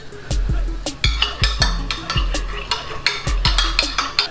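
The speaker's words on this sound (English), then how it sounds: "We're gonna give it a stir." A spoon stirring lemon juice into buttermilk in a bowl, rhythmic clinking taps against the sides about twice a second over a soft liquid swish, close and clear.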